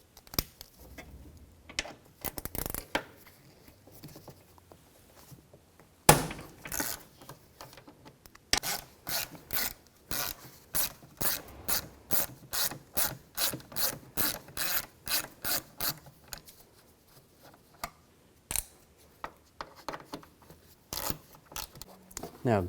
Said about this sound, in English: Take these two screws out. You're going to use a triple square socket.